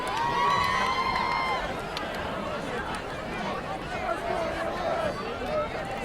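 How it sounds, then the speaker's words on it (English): Crowd noise at a high school football game, Holyoke at Central, with a steady roar of spectators and scattered shouts as cheerleaders try to rouse the stands; voices are mixed throughout. "Central cheerleaders trying to pump up the crowd here."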